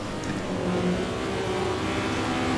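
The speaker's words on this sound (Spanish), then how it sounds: "Es que solo escucho el coche del Víctor, tío." A tuned car's engine in Assetto Corsa drones steadily and revs continuously, with a rough, even motor roar and no talking.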